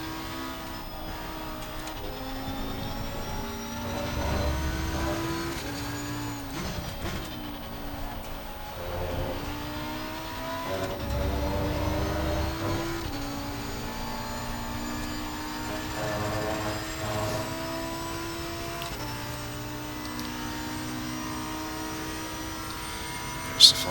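Onboard a Lamborghini Huracan GT3 Evo race car at Spa in Assetto Corsa Competizione, its engine howling steadily with repeated upshifts and downshifts, rising and falling pitch throughout, a sharp click near the end.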